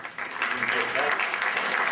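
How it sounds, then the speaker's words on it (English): An audience applauds steadily for a row of teachers, a dense, even clatter of clapping hands filling the room at moderate loudness. "If you can just applaud for them."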